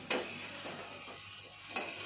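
A lid comes off a pan of sweet, dry homemade vermicelli, giving two light clinks over a soft, even sizzle at close range. No talking.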